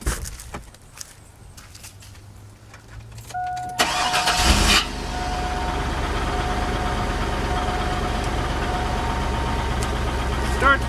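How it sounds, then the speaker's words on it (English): A truck engine cranks and catches, a brief loud starter burst that settles into a steady, rumbling idle close by, with no talking. "Start the truck up."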